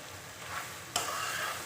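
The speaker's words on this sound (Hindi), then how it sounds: "हम मगज़ को कर रहे हैं फ्राई नमक और हल्दी डालकर" Goat brain fries with salt and turmeric in a pan, giving a steady, close sizzle and one sharp scrape of stirring partway through.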